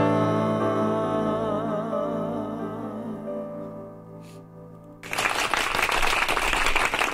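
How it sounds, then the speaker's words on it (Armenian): In a live studio broadcast, a musical ensemble's song fades out and a burst of audience clapping follows, steady and moderately loud for the last couple of seconds. "Կրկին ծափեր են մեր եթերում"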